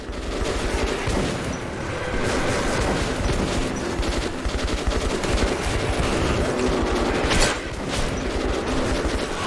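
Rapid gunfire bursts from the video game Metro rattle almost continuously, loud and close, with mechanical clatter and one sharper blast near the end.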